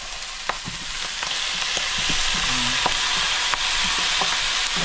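Banana blossom stirred and frying in a pan as it turns golden brown for adobo, a steady sizzle with repeated scraping stirs and light clinks throughout, close and alone without talk.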